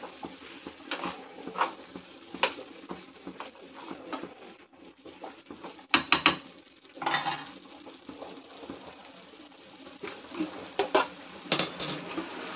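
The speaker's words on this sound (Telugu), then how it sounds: "చికెన్ని మధ్య మధ్యలో కలుపుతూ ఉండాలండి, లేకపోతే అడగంటిపోతుంది. కలుపుతూ ఉడికించుకోవాలి." A spoon scrapes and taps against a pot while chicken is stirred for chicken dum biryani, in irregular close clinks and scrapes with quieter gaps between them, and no voices.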